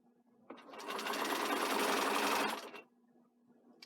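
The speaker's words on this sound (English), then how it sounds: "I'm sewing all the way down" A sewing machine stitches a front band seam at a 5/8 inch allowance, a steady close whirring run of about two seconds that starts abruptly and stops, with quiet room tone before and after.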